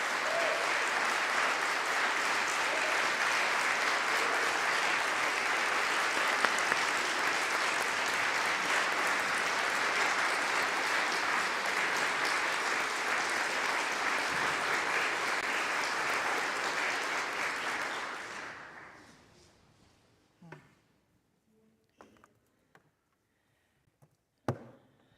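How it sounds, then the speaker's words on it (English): A church congregation applauds choral scholars at a Sunday service, a dense, sustained round of clapping filling the room for about eighteen seconds before fading into scattered handclaps and quiet. "let's give them another round of applause"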